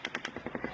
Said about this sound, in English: That's echoes. That's overlapping gunfire.